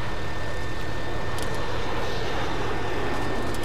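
Jet aircraft engine in the Arma 3 video game, a loud continuous roar with a deep rumbling low end and a faint steady whine, sustained at full strength throughout.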